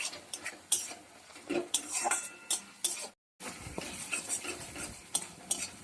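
Masala for stuffed pointed gourd stirred and fried in a pan, with close, irregular scrapes and clinks of the spatula against metal over a soft sizzle, pausing briefly midway.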